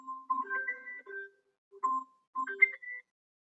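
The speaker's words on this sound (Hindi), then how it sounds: "ये फोन आ रहा है।" A phone rings in a synthetic tonal melody, two bursts of bright chiming notes separated by a short pause, clear against a silent background.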